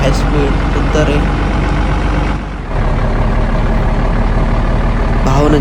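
A Tata truck in a truck driving video game runs at high speed, its engine droning loudly and steadily. Near the middle there is a brief dip in the sound before it resumes, and near the end there is a short hiss.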